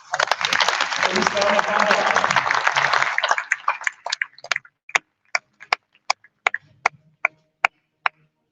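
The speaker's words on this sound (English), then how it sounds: "So please, a warm round of applause" Applause at an award ceremony, a dense burst of clapping that fades after about three seconds into a few scattered single claps spaced out over the rest.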